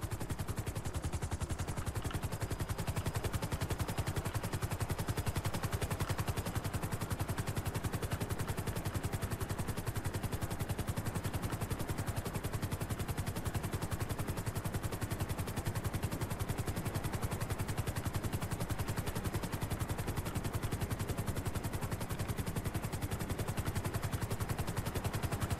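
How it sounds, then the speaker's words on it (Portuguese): A police helicopter in the GTA 5 video game flies low over a gunfight, its steady rotor drone filling the whole stretch with dense clatter and scattered gunfire mixed underneath, loud and continuous. "Tem outro helicóptero deles aí, vermelho, passando aqui na batalha"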